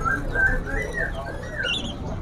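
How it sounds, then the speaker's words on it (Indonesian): A kopi kalung songbird, insect-fed and kept for sale at a bird shop, sings a series of clear, sliding whistled phrases close by, over a low background hum. "Ini suaranya bagus buat masteran ya untuk kopi kalung ini."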